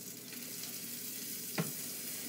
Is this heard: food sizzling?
yes